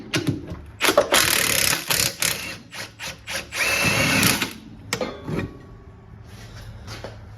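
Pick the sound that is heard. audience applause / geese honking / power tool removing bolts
power tool removing bolts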